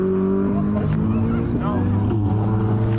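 A Ferrari driving past at a 90s car meet, its engine note rising and falling as it goes by fairly near, heard under crowd chatter and voices.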